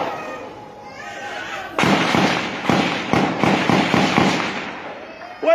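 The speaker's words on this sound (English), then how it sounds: "This Nigerian army shooting sporadically." Sporadic gunfire from the Nigerian army: a series of sharp, loud cracks and bursts at irregular intervals, starting after a quieter stretch and going on to the end.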